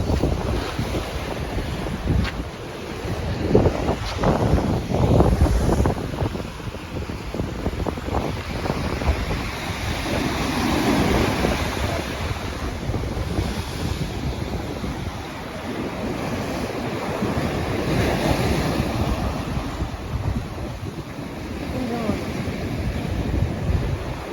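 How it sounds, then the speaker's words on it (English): Ocean waves wash and roll against heavy cold-front wind buffeting the microphone in Montego Bay, with surging swells rising and falling over a constant rushing backdrop. "catching the fish full while I watch the waves."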